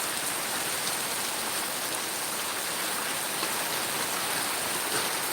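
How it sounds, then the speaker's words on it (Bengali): Heavy rain pours down steadily, a dense, unbroken hiss of drops on surfaces with no pauses and no voices. "আমাদের এখানে তো খুব ভালো বৃষ্টি"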